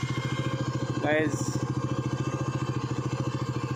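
A parked motorcycle idles with a steady, even putter of rapid engine pulses, close by, while a voice speaks briefly over it.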